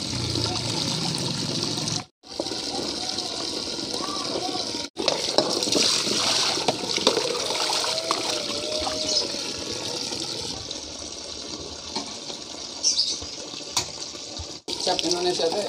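Tap water runs steadily into a sink while genjer greens are washed under it, a close, continuous splashing with brief breaks as the flow is interrupted, and people chat over the water throughout.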